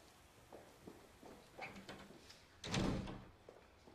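An interior door closes with a single solid thud partway through, after a few faint footsteps or knocks in a quiet room, in a Greek film scene set at a military post.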